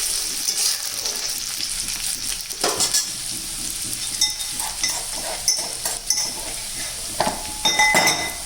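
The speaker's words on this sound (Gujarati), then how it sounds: "હવે આપણે તેમાં લીલું લસણ એડ કરીશું। ગેસ ધીરો કરી અને આપણે આને સરસ હલાવી દેવાનું છે।" Green garlic frying in hot oil with crackled cumin seeds, stirred over low gas: a steady close sizzle with scraping and clinking of a spoon against the pan.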